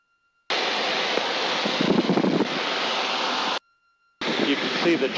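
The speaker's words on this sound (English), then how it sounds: "Windy. Yeah. Feels windy," Steady roaring wind buffeting the microphone on a mountain trail in Rocky Mountain National Park, loud and broadband, cutting out briefly before gusting back in.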